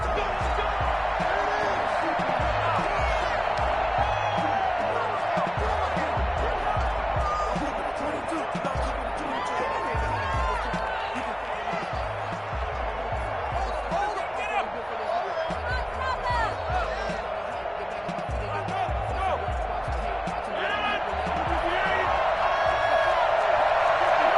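A stadium crowd roars steadily at a Green Bay Packers vs Atlanta Falcons football game, a dense, continuous wash of voices that swells slightly near the end while a commentator talks over it.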